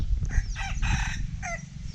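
Fighting roosters crow repeatedly over a noisy yard, several overlapping cock-a-doodle-doo calls with low rumbling background noise throughout.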